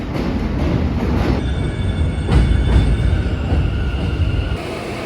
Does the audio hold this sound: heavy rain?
no